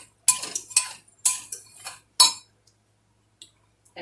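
A spoon scrapes and clinks against a bowl while pie filling ingredients are stirred together, a few sharp bright strokes in quick succession, then quiet with faint taps.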